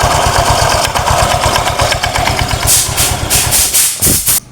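Honda Vario 125 scooter engine revving in uneven, jerky bursts over a rough low idle pulse, loud and close, with the throttle blips rising sharply near the end.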